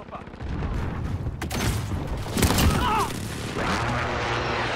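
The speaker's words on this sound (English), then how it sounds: "Friendly precision airstrike on the way." Precision airstrike explosions in the Modern Warfare multiplayer shooter: a burst of booming blasts and rumbling fire rolls through several seconds, loud and dense, with gunfire-like cracks and talk running beneath.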